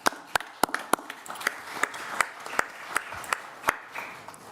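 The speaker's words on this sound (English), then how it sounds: "That deserves applause." Applause at a county board meeting in Arlington, a sparse scattering of sharp hand claps from a small group in a room, fairly close and steady for a few seconds.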